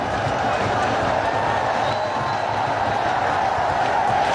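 Cricket stadium crowd roaring and cheering in a steady dense wash of noise, loud and continuous throughout with no pauses.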